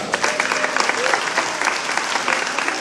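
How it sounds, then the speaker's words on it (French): An audience at a town hall reception for a women's handball team applauds continuously, a steady roar of clapping with faint crowd murmur beneath. "il faut aussi qu'on applaudisse Steve de la salle"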